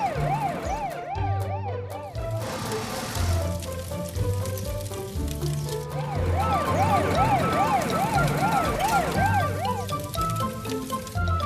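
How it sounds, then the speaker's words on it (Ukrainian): A fire engine siren wails, rising and falling repeatedly over a busy toy-like musical background in a children's cartoon, loud and continuous throughout. "Вмикаємо проблискові маячки та сирену."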